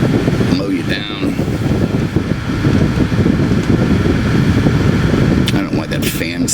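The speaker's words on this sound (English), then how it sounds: "Seems like a very high fan for first speed." Lexus SC300/SC400 cabin air conditioning fan blowing hard on its lowest setting, a loud continuous broadband whoosh filling the car, with a few brief clicks and rustles.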